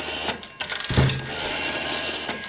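A telephone rings on the line after a number is dialed out through a home PBX in a model railway room, with a steady high ringing tone that is faint and continuous behind a brief thump of handling noise.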